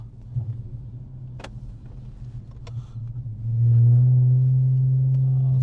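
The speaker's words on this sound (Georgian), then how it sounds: "აი, უკანა ბაჩოკები სპორტული აყენია ამ მანქანაზე და საკმაოდ სასიამოვნო ხმა აქვს რა" Infiniti Q50S AWD hybrid car fitted with sporty rear exhaust mufflers, its engine rumbling at idle and then swelling into a louder, steady droning hum, with a couple of faint clicks early on.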